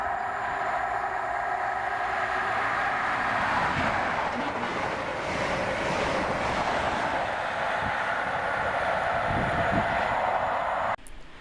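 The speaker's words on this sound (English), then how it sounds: "This was 1B40, the 1711 ScotRail service to Edinburgh from Aberdeen" A ScotRail service made up of power cars 43175 and 028 passing at Monifeith, a steady loud rumble and roar carrying for about eleven seconds before cutting off abruptly.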